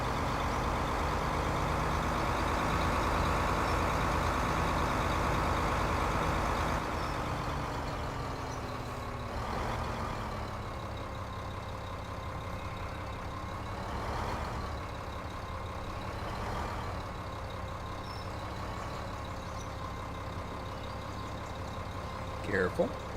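A tractor engine in Farming Simulator 2015 drones steadily with a low hum that shifts pitch as it works, with someone talking over it at times and a couple of brief clicks at the end.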